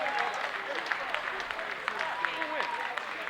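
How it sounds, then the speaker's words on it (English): After a professional boxing main event at the Kravis Center in West Palm Beach, Florida, the crowd applauds the two fighters, a moderate steady clapping wash with an announcer's voice and crowd chatter running over it. "how about a great round of applause for these two warriors"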